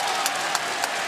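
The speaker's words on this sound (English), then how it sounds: "And listen to this crowd." A wrestling arena crowd in Newark, New Jersey roars in a loud, continuous wash of cheering and applause, with a few sharper claps rising out of the din.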